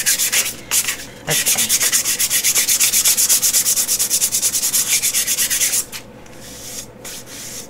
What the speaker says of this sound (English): You can sand that out. This is very soft wood. I'm thinking it's pine because it sands so well.